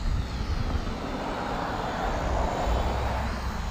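A quadcopter drone flies circles and figure eights outdoors, its steady motor drone buzzing continuously at moderate distance with no voices.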